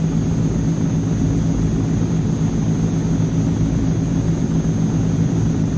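Engines of an AzurPoly C160 Transall transport plane drone steadily in flight in a flight simulator, a loud, constant low rumble with a faint high tone running throughout.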